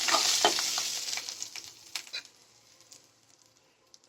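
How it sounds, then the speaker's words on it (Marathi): Stirring and frying of a Marathi phodni tempering in a pan for a jaggery and kokum amti dal: a loud opening sizzle fades into a quieter crackle with scattered scrapes and stirring clicks. "आता ही फोडणी चांगली परतून घेऊयात."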